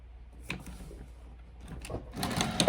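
A sewing machine stitches slot pockets onto a bifold wallet: a few soft clicks, then a quiet, steady mechanical rattle that grows louder toward the end, close by and without speech.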